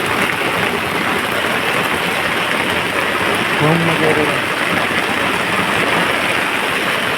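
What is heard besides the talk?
heavy rain pouring down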